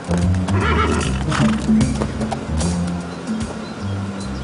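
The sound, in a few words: white horse neighing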